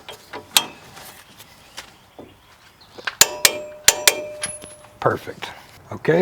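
A wheel dust cap is lightly tapped back into place, giving a scattering of sharp metallic clanks and taps up close, irregular in rhythm, while a person speaks briefly.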